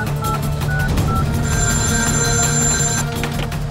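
A telephone bell rings steadily over a continuous hum of background noise, with a brighter burst of tones in the middle.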